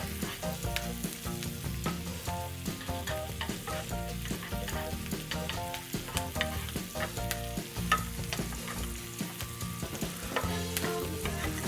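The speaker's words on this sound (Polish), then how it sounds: "Odrobina tymianku i całość przesmażę." Ham seasoned with sweet paprika and thyme sizzles steadily in a hot pan, with a constant close frying crackle and occasional scrapes as it is stirred, and no talking.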